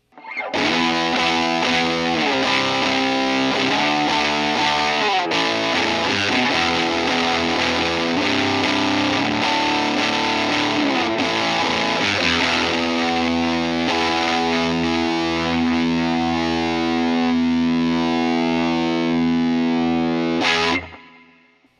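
Electric guitar through a fuzz pedal with an EQ5 pedal boosting the lows on a Fender Tone Master Pro, a loud, thick, sustained distorted chord passage ringing out for about twenty seconds before cutting off.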